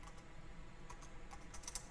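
Quiet, close typing on a computer keyboard, a scattered run of light key taps with a few sharper clicks near the end, set against a low steady room hum.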